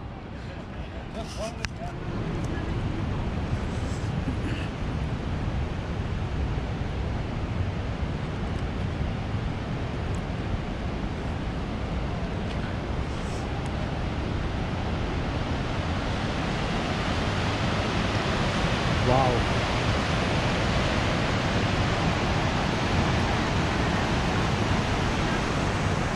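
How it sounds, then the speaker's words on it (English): Rushing river water at Natural Bridge in Yoho National Park, a loud continuous broadband roar that swells slightly toward the end, with some wind buffeting at the start. "This water is crazy."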